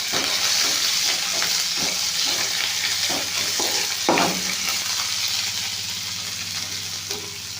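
Garlic dropped into hot oil already crackling with mustard and cumin seeds, giving a loud, steady, close sizzle with scattered stirring scrapes and a sharper spatter burst midway, alone without talk.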